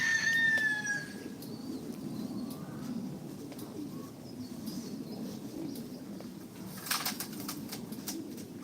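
Doves cooing in a low, soft murmur that runs steadily throughout at moderate distance, with some brief higher bird chirps early on and a brighter burst near the end.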